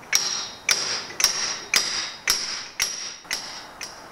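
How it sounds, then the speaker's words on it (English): Eight sharp metallic taps of a hammer seating a bush into a Honda NTV 650 fork tube, at a steady pace, each ringing briefly with a bright, close clink. "we can just give that a few taps to get that seated"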